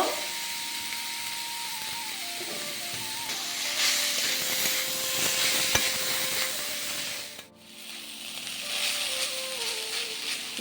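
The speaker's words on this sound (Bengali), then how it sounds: "দেখো নারকেলটাকে আমি এইভাবে ভেজে নিয়েছি" Grated coconut fries and sizzles in a pan with a steady hiss, stirred with scraping and rubbing sounds and a brief dip in the middle.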